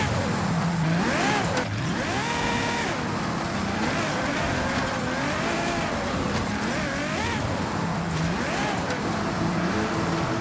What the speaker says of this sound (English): driving off a cliff feels more intense on impact.